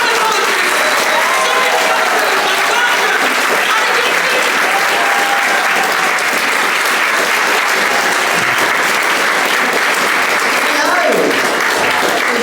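A comedy-show audience in a van venue in Stockport gives loud, sustained applause to welcome a comedian, with dense clapping filling the whole stretch and a few crowd voices mixed in.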